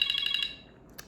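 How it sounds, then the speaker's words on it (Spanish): An electronic alarm beeps in a quick run of about five high-pitched pulses that stop abruptly, followed by a short click, heard alone and fairly loud. "esa era la alarma"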